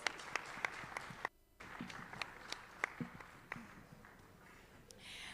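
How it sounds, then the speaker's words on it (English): Audience applause at a youth week launch event, fairly faint and scattered, with sparse individual claps and a short gap partway through. "Let's give her a round of applause."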